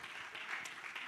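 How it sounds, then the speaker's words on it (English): Applause at a church service for a newly elected judge, a faint, dense wash of many hands clapping steadily at a distance. "Let's give her a hand clap."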